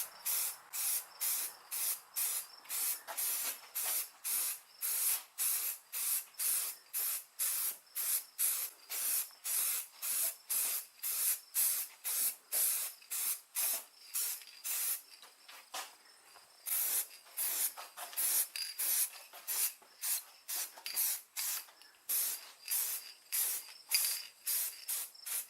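Repeated bursts of spray paint hiss as a second coat goes onto the top of a 1996 Ford Mustang spoiler in a garage, short even passes in a steady rhythm for about twenty-five seconds, close and fairly loud with no talking.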